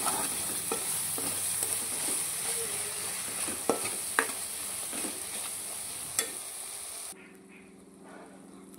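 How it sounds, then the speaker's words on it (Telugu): Masala paste being stirred into frying fish curry, a loud hissing sizzle with repeated scraping and clacking stirs, heard alone before the frying suddenly drops to a quieter background. "మనం పేస్ట్ చేసుకున్న మసాలా కూడా వేసుకొని ఒకసారి బాగా కలుపుకోవాలి"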